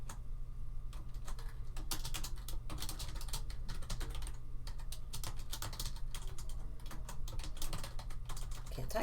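Fingers tap quickly on a computer keyboard in a quiet room, a steady stream of close, light clicks in irregular bursts with brief pauses and no talking.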